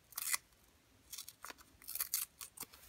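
Junk mail paper is torn by hand for journal art in a few short, close ripping bursts separated by brief pauses in a quiet room.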